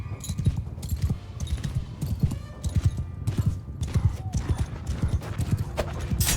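Horse hooves clip-clop steadily in Mount & Blade II: Bannerlord, close and fairly loud amid battlefield noise, with a brief neigh and some overlapping speech.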